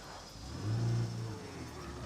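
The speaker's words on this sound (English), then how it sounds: "our truck is making these kind of noises" A damaged truck engine in State of Decay 2 hums and rumbles at low volume, swelling briefly into a revving, straining drone midway before settling back to a steady whir.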